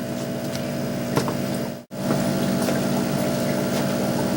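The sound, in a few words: small water pump running in hydroponics tub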